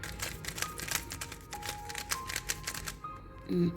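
A MoYu speed cube is turned quickly during a speed test, giving a dense run of light plastic clicks and clatters that hold steady for several seconds before a short louder rattle near the end.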